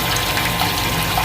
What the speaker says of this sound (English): I've got brewer's wash in there with about 3 gallons of water,